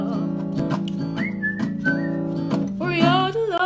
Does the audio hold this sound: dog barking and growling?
no